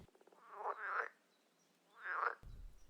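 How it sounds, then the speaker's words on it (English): Frogs croak outdoors in two separate raspy bursts about a second apart, each a rattling pulsed call over quiet background hiss. "Before you ask yourself where the disturbing frog sounds come from"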